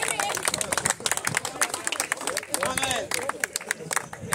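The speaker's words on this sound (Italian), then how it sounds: "facciamo un applauso alla ragazza che ha fatto il tasso" Scattered applause for a girl at a spring trophy award ceremony, clapping in uneven bursts close by, mixed with crowd chatter and voices talking throughout.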